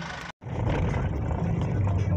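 A Ford Falcon fitted with a newly installed full exhaust system revs loudly nearby, its deep, steady roar broken only by a brief gap near the start.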